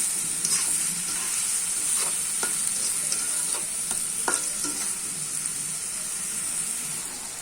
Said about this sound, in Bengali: এখন আমি পেঁয়াজ দিয়ে দিব দু পেঁয়াজি করার জন্য।